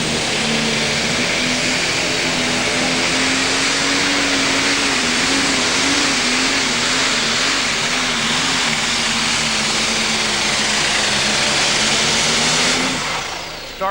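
A John Deere 720 pro stock pulling tractor with a single turbocharger roars through a full pass at an NTPA championship tractor pull in Bowling Green, Ohio, a loud, sustained engine drone with a wavering pitch before it fades at the end.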